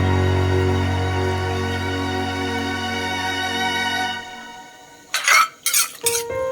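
Pounded chili paste is stirred in a cooking pot for a mushroom curry, heard as a few short, loud scraping strokes that follow a steady humming tone, with no voices.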